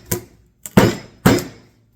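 Three sharp metallic hammer blows, each ringing briefly, strike a John Deere 40/M hydraulic pump being knocked apart during a rebuild, close and loud with short pauses between hits.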